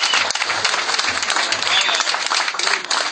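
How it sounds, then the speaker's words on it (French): Crowd applause at an anniversary gathering in honour of a government minister, loud close clapping with some voices mixed in, continuing throughout. "Il faut applaudir."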